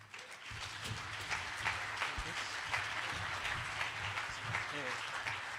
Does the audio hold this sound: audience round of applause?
yes